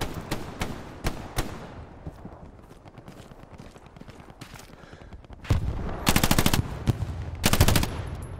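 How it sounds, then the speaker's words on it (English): Gunfire in a military video game near a wheat field, scattered single shots early, then loud rapid automatic bursts in two close clusters toward the end. "Taking fire from the north."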